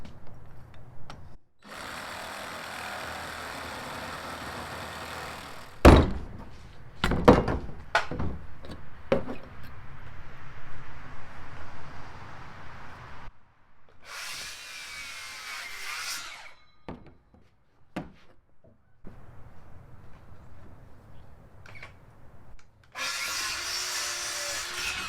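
A short length of pipe being sawn for a DIY IBC tote livestock drinker, heard as several bursts of rasping cutting strokes separated by pauses and clunks of handling, close up with no talking.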